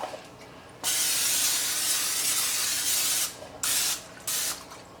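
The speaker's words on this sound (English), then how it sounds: "spray that with some spray." A loud aerosol cooking spray hisses into a baking pan in one long burst, followed by two shorter quick bursts, close by with no voices.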